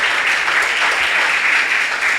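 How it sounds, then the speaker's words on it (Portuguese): A church congregation applauding during a healing and deliverance service, a loud continuous wash of many hands clapping with no breaks, close and filling the room. "E dá um aplauso de cura e de libertação."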